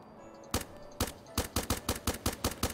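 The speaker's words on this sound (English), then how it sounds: "Let's try out this gun." A gun fires in the video game Starbound: sharp, loud shots, two spaced single reports followed by a rapid regular string of about eight, each a crisp crack with a short tail.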